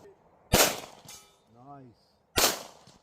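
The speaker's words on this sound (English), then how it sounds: "These are the first shots out of the Gen 6 for me." Two sharp, loud pistol shots from a custom Gen 6 Glock 17 with a Steiner MPS optic, fired at an outdoor range about two seconds apart, each cracking close with a short tail.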